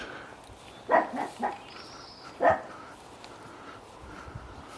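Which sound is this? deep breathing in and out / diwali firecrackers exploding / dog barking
dog barking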